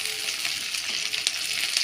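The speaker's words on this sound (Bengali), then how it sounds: "হালকাভাবে নেড়ে চেড়ে নেব।" Green chillies sizzle steadily in oil in a pan while being stirred, a dense continuous fry with faint scraping accents and no talking.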